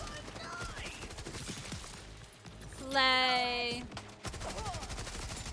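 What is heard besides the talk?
gunfire in a video game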